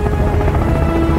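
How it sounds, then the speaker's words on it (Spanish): A helicopter in the survival game Sons of the Forest gives off a steady, dense low rotor and engine drone that stays level throughout the short stretch. "Al menos yo estoy en un helicóptero"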